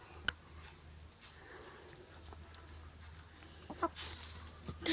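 A pet hen named Sally gives a few soft, scattered clucks around laying an egg, faint and intermittent against a quiet backyard background.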